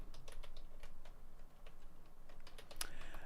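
Quick, uneven typing on a computer keyboard during a live stream, with bursts of close, faint key clicks over a low background hum and no voices.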